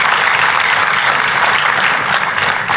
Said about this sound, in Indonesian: Kalau mau tepuk tangan yang paling meriah saudara